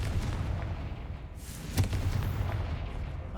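A Confringo spell blast in the Hogwarts Legacy video game: one sharp explosive burst midway, over a steady rumbling game background.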